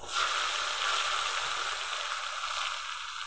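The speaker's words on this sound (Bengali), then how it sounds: "চিংড়ি মাছ ভাজলে এরকম তেলে ফেনা ধরে যায়।" Prawns frying in foaming oil with chopped onion and tomato, a steady close hiss and crackle of sizzling that holds even and unbroken throughout, with no voices.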